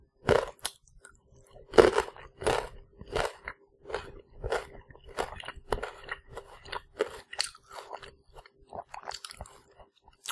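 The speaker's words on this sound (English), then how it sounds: "One last bite of my peanut butter toastie." A peanut butter toastie is bitten and chewed close to the microphone, giving a steady run of about a dozen crisp, crunchy bites and chews separated by brief quiet gaps, with no talking.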